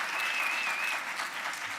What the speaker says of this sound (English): So huge round of applause for this panel